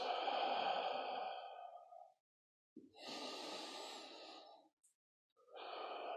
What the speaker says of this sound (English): Take a few big deep breaths.